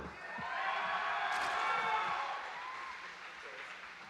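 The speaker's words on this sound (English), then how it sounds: "So let's go ahead and cheer on these players." An audience at an esports tournament for a StarCraft group final match applauds and cheers in a broad, sustained wash of clapping and voices that swells and then eases off.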